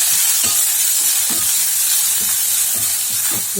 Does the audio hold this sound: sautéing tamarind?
yes